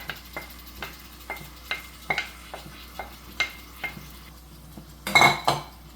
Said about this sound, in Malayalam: ഈ ഒരു മാരിനേറ്റ് ചെയ്ത് വെച്ച ചിക്കനും ഈ ഒരു മസാലയും എല്ലാം കൂടെ ഒരുമിച്ച് ഇതിലേക്ക് ഒഴിച്ചു കൊടുക്കാം